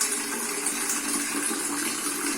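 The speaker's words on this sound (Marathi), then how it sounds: "आणि आता गंजामध्ये पाणी भरून घेते" Drinking water gushes steadily into a metal pot, a continuous, bright rushing and splashing sound heard up close with no pauses.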